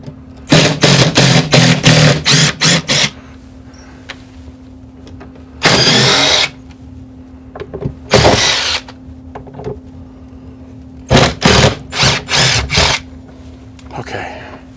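A power tool whines in short, loud bursts while backing screws out of a Heathkit SB-220 amplifier, several spins separated by pauses, with a steady low hum underneath.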